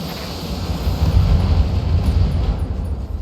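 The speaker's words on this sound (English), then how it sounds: "it looks like those ammo explosions were enough to take that thing down" Deep rumbling blasts of ammunition cooking off inside a mech in the BattleTech video game, a dense, sustained low roar that swells around the middle and then slowly fades, with no voices.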